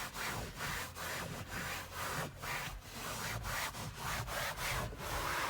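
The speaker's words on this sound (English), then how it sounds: "And back to scrub." A wet rag scrubs hard back and forth across a cloth car seat, making a quiet, raspy rubbing noise in a steady rhythm of about a dozen strokes.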